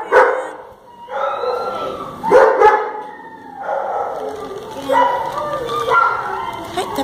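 Dogs at an American animal shelter, many of them pit bull terriers, bark and yip in repeated loud bursts close by, with a rising howl-like cry among them and people talking through the din.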